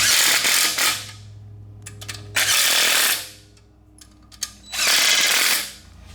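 A hand ratchet snugs down bolts on a titanium five-blade propeller, making three long bursts of rapid clicking separated by short pauses with a few faint metallic taps between.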